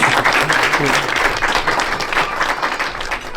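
A crowd at an Indian film festival event in Ireland applauds as a guest is called up on stage, a dense continuous round of clapping with faint voices mixed in.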